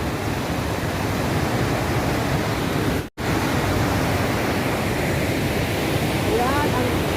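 Huka Falls pours in a powerful, continuous roar of rushing water, dense and close, broken only by a momentary dropout midway, with faint voices underneath.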